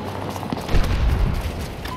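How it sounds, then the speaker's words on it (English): A grenade goes off in the Battlefield video game, a heavy close boom amid bursts of gunfire and battlefield rumble across roughly two seconds, loud and dense. "Grenade thrown!"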